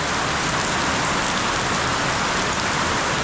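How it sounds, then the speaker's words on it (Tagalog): Heavy rain pours down steadily on a rainy day, a dense, even hiss and patter that fills the whole stretch without a break or any voices. "napakalakas talaga ng ulan"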